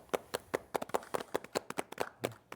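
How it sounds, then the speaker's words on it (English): A small group claps during the halftime show of the NBA 2K19 basketball video game, with about twenty quick, crisp, uneven claps close by over a few seconds. "Clapping for yourselves."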